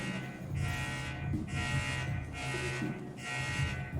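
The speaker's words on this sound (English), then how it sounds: "It sounds kind of like an alarm." An alarm-like electronic tone flickers in repeated buzzing pulses of about a second each, steady and moderately loud with no talk over it.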